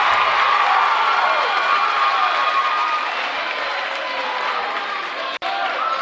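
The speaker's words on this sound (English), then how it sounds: "Scott County Central crowd seems to be very excited tonight" Excited home crowd at a high school boys basketball district final cheers loudly in a packed gym, a dense sustained roar that gradually settles, broken near the end by a single sharp knock.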